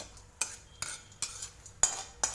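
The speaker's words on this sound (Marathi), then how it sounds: "थोडीशी हरभऱ्याची डाळ भाजून घ्यायची तेलात तळून घ्यायची लालसर होईपर्यंत" Chana dal frying in oil is stirred with a metal spoon, giving five or six sharp, evenly spaced scrapes and taps against the pan over a faint sizzle.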